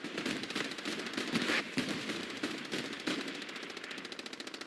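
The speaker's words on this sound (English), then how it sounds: "That's friendly artillery from Weatherman coming in" Friendly artillery fire in a war video game arrives as a rapid series of distant explosive bursts and cracks, uneven and rolling, at moderate volume with no voices.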